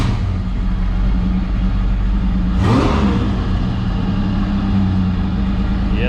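A supercharged 3800 engine in a Pontiac Fiero, just repaired for a cracked exhaust manifold, idles with a steady rumble, then revs once in a quick rising-and-falling surge before settling back to idle. Heard close from inside the car.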